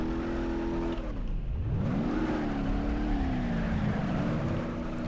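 A car reversing in the BeamNG Drive video game, its engine droning steadily with a rising and falling pitch as it backs up and accelerates, loud and continuous with no talk.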